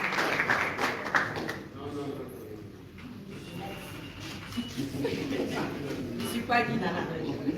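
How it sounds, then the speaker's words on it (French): Audience applause at the Bazui Nzonzing comedy awards ceremony: scattered, fairly soft clapping that rises and falls, with a voice talking over it. "Est-ce qu'on peut applaudir bien fort pour eux?"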